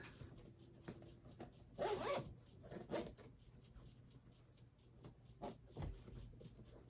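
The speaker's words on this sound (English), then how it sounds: "Zip it up" A zipper on a sewn, quilted boxy bag is pulled closed in a few quick rasping strokes, with light handling rustles in between; close, fairly quiet, no talking.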